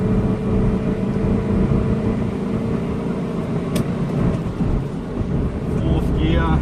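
A 1993 Mazda B2600 4x4 pickup with an upgraded exhaust climbs a steep hill at full throttle in fourth gear, giving a loud, steady, low engine drone with road and wind rumble throughout.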